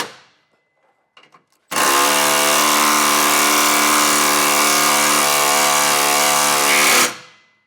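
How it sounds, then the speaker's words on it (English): A power tool with an 18mm socket spins down trailer hitch bolts on a 2023 Ford Transit T250, one loud, steady whine lasting about five seconds after a few faint clicks, then stopping abruptly. "Now I'll take an 18mm socket and get these tightened down."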